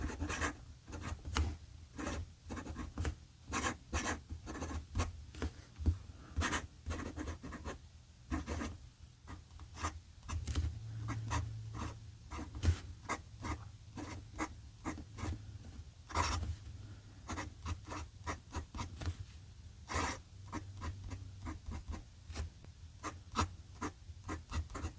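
A pen scratches out a handwriting sample on paper in quick, irregular strokes and taps, close and alone with no talking, the light scraping steady across the whole stretch.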